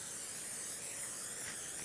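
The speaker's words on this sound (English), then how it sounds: "I'm going to spray my pan." Cooking spray hisses onto a baking pan in one continuous, fairly faint burst that lasts the whole moment, with no talking over it.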